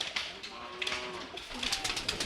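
Pigeons coo softly nearby in a quiet, brief burst, with people talking faintly in the background.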